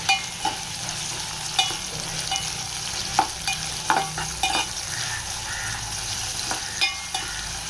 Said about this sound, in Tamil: சேர்த்து நல்லா எல்லாத்தையும் வதக்கலாம்.